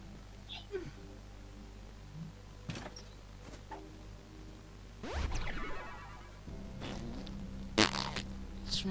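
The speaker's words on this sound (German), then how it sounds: "Ich musste furzen." A person farts during a session playing The Binding of Isaac: Wrath of the Lamb, a brief low rumble that sits amid quiet game sounds and faint background hum.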